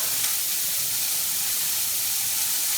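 Zucchini sizzles steadily in a hot pan, a loud, dense, continuous hiss of frying with no pauses and no voices.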